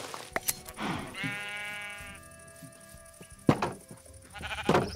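Bleating sheep in the Minecraft video game, a drawn-out wavering bleat in the middle with short sharp clicks and shuffling sounds around it, fairly close and moderately loud.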